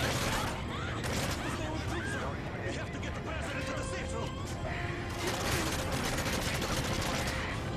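Bursts of gunfire and crashing impacts in the video game Modern Warfare 3 singleplayer, dense and loud, with players talking over the shooting throughout.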